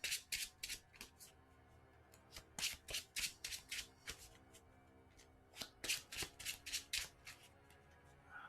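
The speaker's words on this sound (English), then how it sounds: "And then we're going to shuffle." Arkham Horror card game deck being shuffled by hand, a series of crisp riffling bursts in quick clusters, close and quiet, with brief pauses between shuffles and no talking.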